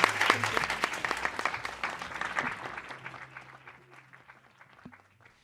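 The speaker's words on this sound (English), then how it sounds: "Let's give Charlie, Catherine, Kaitlyn, and Christian a round of applause." An audience at a legislative congress seminar claps in a dense burst of applause that starts strong and gradually thins and fades toward the end, with a faint voice briefly underneath.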